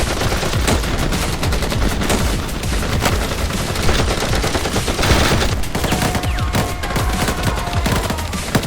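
Loud, dense gunfire in a war video game: rapid machine-gun bursts and overlapping shots pour on without a break, close and heavy for the whole stretch.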